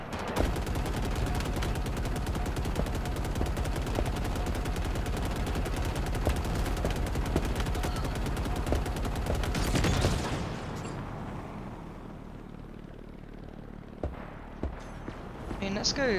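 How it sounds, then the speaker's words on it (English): Rapid gunfire crackles almost nonstop in Halo Infinite combat, a dense fusillade of sharp shots for about ten seconds, then fading to sparse distant pops, with a voice talking over it. "who's shooting me?"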